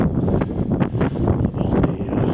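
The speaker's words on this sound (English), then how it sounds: "Very windy, so I will talk louder." Strong outdoor wind buffets the microphone in low, rumbling gusts that surge and fall continuously, loud and close, with no voices heard.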